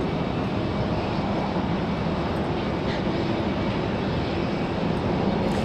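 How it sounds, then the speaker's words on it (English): An Endeavor CRJ regional jet departs Raleigh Durham bound for LaGuardia, a constant heavy engine roar held at close range throughout with no talking. "The CRJ departure off to LaGuardia."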